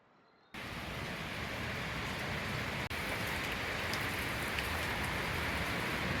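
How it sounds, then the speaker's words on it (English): Steady late-November rain pours down nearby, a dense, even hiss of drops hitting surfaces that begins abruptly and continues loudly without any voices. "fortunately we got a late November rain"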